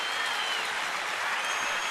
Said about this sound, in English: Crowd making some noise, a lot of them on their feet.